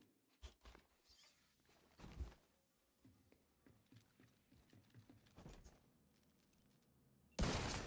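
Gunfire in the video game The Division 2 comes as scattered shots and short bursts with mechanical clicks in between, ending in a loud, sustained blast of noise, with no talking.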